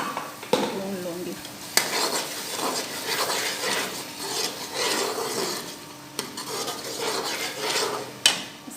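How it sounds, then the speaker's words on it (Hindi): Spices with black pepper and turmeric roast in a pot for chicken qorma, a metal spoon scraping and stirring in steady repeated strokes with occasional clinks against the pot. "इन सब मसालों को भून लूँगी"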